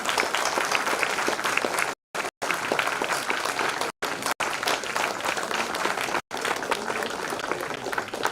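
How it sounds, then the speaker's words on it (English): Sustained audience applause fills an auditorium at an inauguration ceremony for a silver jubilee celebration, dense and loud, broken only by a few abrupt brief dropouts. "Please keep on clapping."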